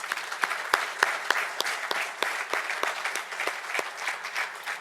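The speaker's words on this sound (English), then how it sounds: "So let's give them another round of applause" A crowd at a stadium expansion groundbreaking claps together, with a sustained wash of applause marked by a few sharp, close individual claps standing out near the front.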